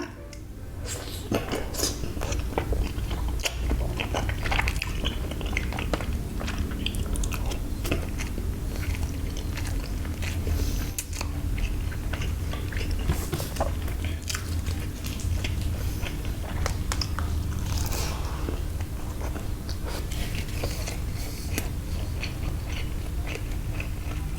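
Large brackish-water pickled shrimp skewered with pickled salmon in a spicy Thai dressing, chewed close to the mic with wet, squelching bites, steady through the clip, alongside occasional clinks of cutlery and dishes.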